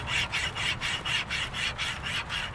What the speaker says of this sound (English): I'm not going to push too hard on it because I don't want to break my little cable saw or the bow because it's dry wood